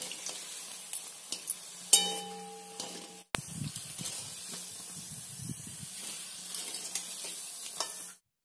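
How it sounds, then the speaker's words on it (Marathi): Shankarpali deep-frying in hot oil over a medium flame, a steady broadband sizzle running throughout, with a few clinks early on and a brief dropout midway. "असं चांगलं तळून घ्यायचं, 5 ते 6 मिनिटं लागते ती तळायला"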